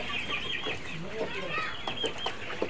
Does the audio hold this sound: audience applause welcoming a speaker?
no